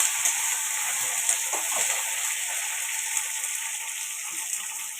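A soft ingredient lightly frying in a pan while cooking chicken kasa, heard as a steady, close, even sizzling hiss with a few faint stirring clicks.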